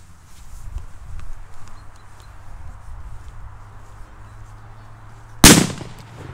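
A PyroSR 2G firecracker goes off in one sharp, loud bang after several seconds of quiet outdoor background.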